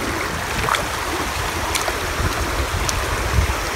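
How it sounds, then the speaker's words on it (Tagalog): Strong waves washing at a river or shore in Nara, Japan, a steady broadband rush of water with occasional splashes, loud and continuous, no voices. "Kaso malakas yung alon niya"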